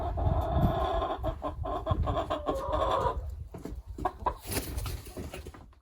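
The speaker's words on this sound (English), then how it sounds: "I gotta pause again to throw the chicken off the table" A hen that likes to lay her eggs on a table clucks and squawks close by in a home workshop, a busy run of uneven, overlapping calls that rises into sharper cries near the end.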